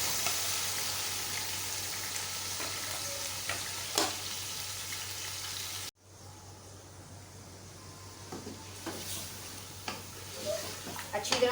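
Marinated mutton frying in about a cup of cooking oil in a karahi, a steady broadband sizzle that cuts out abruptly midway, then resumes quieter with faint stirring clatter.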